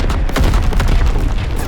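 Rapid anti-aircraft flak gun fire in the Call of Duty WWII battlefield, a dense barrage of booming bursts mixed with distant gunfire, loud and continuous throughout.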